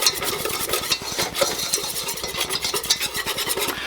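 A whisk scrapes quickly and rhythmically against a pan while a roux cooks over medium heat, making a steady, close, scratchy beat under a soft sizzle, with no talking.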